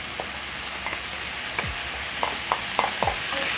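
Beef liver and tomatoes sizzle in a pan, a continuous frying hiss with several sharp scrapes and clacks of a utensil stirring, close and with no voices.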